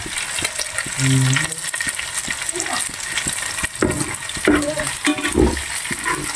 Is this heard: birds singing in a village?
no